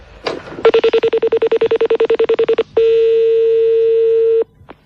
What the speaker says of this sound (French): on va rappeler votre collègue, je vais l'appeler